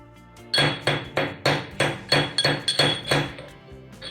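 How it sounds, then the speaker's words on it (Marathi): Garlic cloves are crushed with about ten sharp, evenly spaced pounding strikes. They are close and fairly loud, each one ringing briefly, and they stop before the end. "मी लसूण ठेचून घेणार आहे"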